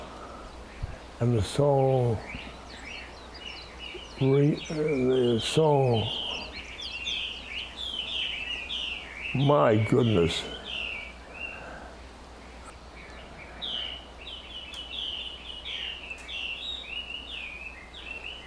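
Birds chirp and tweet continuously in the background, soft and fairly close, while a person speaks in a few short bursts over them.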